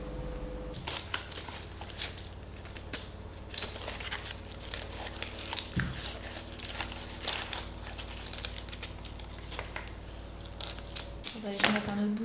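Pieces of cardboard are handled, crinkled and shifted close by while a parcel is packed, with a continuous stream of rustling and scraping, a low hum underneath and brief louder handling near the end.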